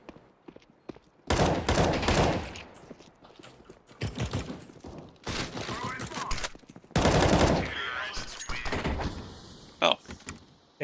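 Bursts of automatic gunfire in a shooter video game come in several loud, dense volleys separated by quieter stretches, with a voice talking at times between them.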